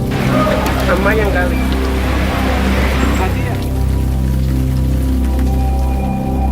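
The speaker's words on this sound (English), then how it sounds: "we get to the island and it begins to rain" Rain falls on a Cancún island after a boat ride, a dense steady patter and hiss that fills the whole stretch with a low rumble beneath.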